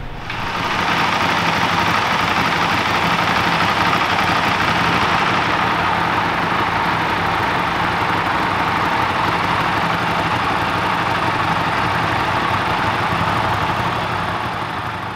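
A Buell motorcycle engine idles steadily at the Grand Rapids, Michigan factory, a constant, even rumble at close range lasting the whole stretch without any revving or talk.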